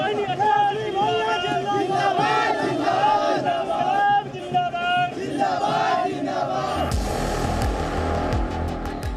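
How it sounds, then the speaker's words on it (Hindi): A dense crowd of supporters at an election rally road show shouts and chants together, loud and continuous, with many overlapping voices; the mix turns rougher and noisier near the end. "उनकी सभाओं में कार्यकर्ताओं की भारी भीड़ उमड़ रही है"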